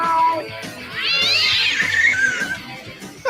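A single drawn-out cat meow, rising then falling in pitch, fairly close and clear over a quiet background.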